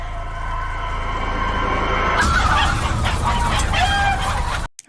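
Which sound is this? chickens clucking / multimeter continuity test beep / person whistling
chickens clucking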